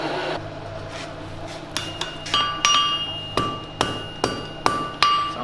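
A blacksmith hammers hot steel into a blunt taper in a forging class, striking about ten ringing blows in a fairly regular rhythm, close and loud, with the metallic ring lingering between strikes.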